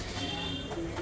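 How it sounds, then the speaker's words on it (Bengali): A female racing pigeon coos softly and steadily in a short, continuous stretch, with a low murmuring tone close by and no talk over it. "এটা হলো একটা মাদি পায়রা, রেগদার পায়রা, চটিয়াল"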